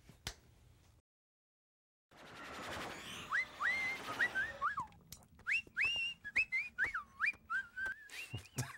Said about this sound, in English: Around the studio, we called that snappy whistling